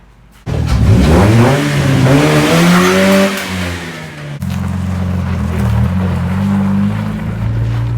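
A car engine fires up abruptly and revs, pitch climbing then settling, before a gear change drops it into a steady, fairly loud drone as the car pulls away on a test drive.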